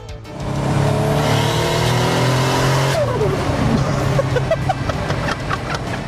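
A 500 hp Toyota Cresta engine revs hard and loud up close, holding a high steady drone for a few seconds before dropping back with crackling, fluttering decay.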